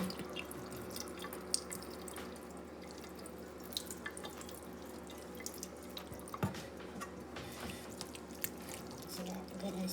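Juices from cooked shrimp burrito filling draining away, a faint trickle with scattered small drips and splashes, steady and quiet, with occasional soft clatter.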